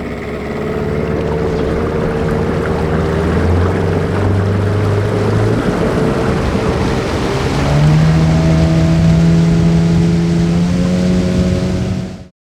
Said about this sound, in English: This is so weird to be sitting here hunting and having boats come by.